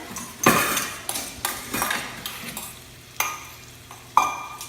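Eggs going into a pan of frying bacon, with a sizzle and a series of sharp metal clanks and scrapes from a utensil against the pan, spaced out over a few seconds.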